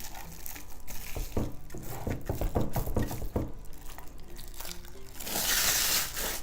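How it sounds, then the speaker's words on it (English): 100 grams of Greek feta crumbled by hand, making a close run of soft crinkly crunches and crackles, with a brighter rustling hiss near the end. "I'm just going to crumble it up"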